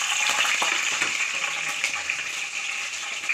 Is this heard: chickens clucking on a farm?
no